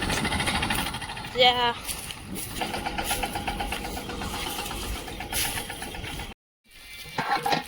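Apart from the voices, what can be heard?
tractor engine while unloading onions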